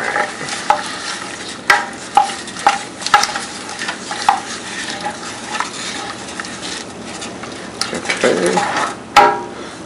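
White wine poured into a hot pan for shrimp and grits, loud crackling sizzle with repeated spoon clacks and scraping against the pan throughout.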